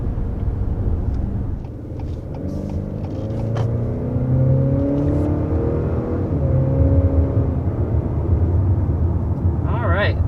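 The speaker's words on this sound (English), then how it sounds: "So first taking off here with this refreshed Acura RDX." A refreshed 2022 Acura RDX with a turbocharged four-cylinder engine (275 horsepower) pulls away from a stop, its engine note rising and building steadily under someone talking through most of the run.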